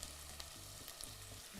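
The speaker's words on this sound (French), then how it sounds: "j'ai pris la même casserole pour faire revenir les légumes" Vegetables, including multicoloured peppers and onion, sauté for a Cuban sofrito in the same pot used for beans, giving a steady, close, dense sizzle and crackle that holds throughout with no talking.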